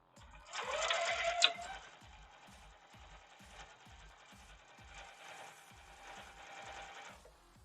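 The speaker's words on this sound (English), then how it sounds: "So we're just gonna sew these rows up together." Sewing machine joining quilt rows for a framed pinwheel quilt, a fast rhythmic needle chatter running steadily for several seconds after a brief higher mechanical whir at the start, close and alone.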